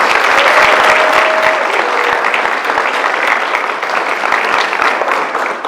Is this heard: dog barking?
no